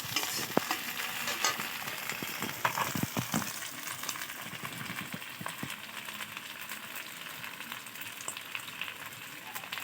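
Ginger garlic paste hits fried onions in a hot pan and sizzles loudly and continuously, with scattered sharp crackles and spoon scrapes from stirring throughout.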